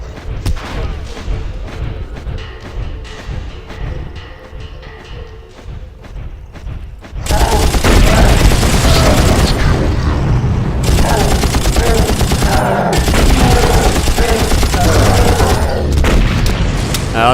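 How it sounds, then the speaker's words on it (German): Dense, loud bursts of automatic gunfire and booming explosions erupt in a Far Cry firefight, a quieter stretch giving way to sustained heavy shooting with brief gaps, mixed with battle noise. "Und wir stehen unter Beschuss."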